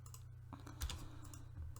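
Quick bursts of keystrokes on a computer keyboard, close and fairly quiet, with uneven clicking clusters and a steady low hum underneath.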